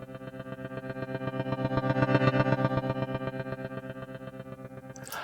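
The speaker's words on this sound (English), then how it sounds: "Let's now set it for a saw wave, and let's increase the rate to 1/16" A synth tone has its volume chopped by a saw-wave LFO at a 1/16 rate, producing a fast, even pulsing rhythm of ramping swells over a sustained chord, close and alone.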